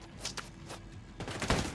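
Bursts of gunfire in The Division 2 crack out in a quick irregular series, several sharp shots clustered near the end over a low background rumble.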